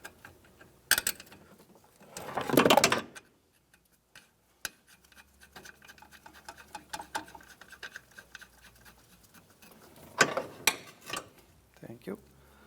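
A ratchet backs off the last nut holding a brake line bracket onto a stud on a 1992-1996 Ford F-150, heard as a close run of quick metallic clicks between a few louder clanks and bumps, with no talk.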